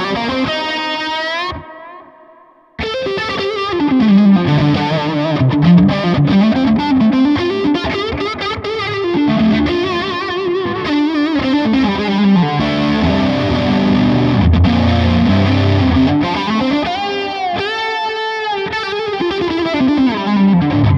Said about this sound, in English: let's bring in some wet effects, delay and reverb, also chorus. Let's try and get a sort of lead sound